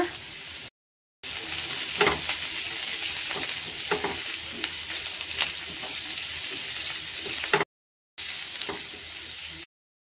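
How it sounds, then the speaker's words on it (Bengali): Carrots and chopped capsicum fry in a pan for pasta, giving a steady close sizzle broken by scraping stirs, with a couple of brief silent gaps. "গাজরটা দিলাম, গাজরটাও একটু ভেজে নেব সামান্য"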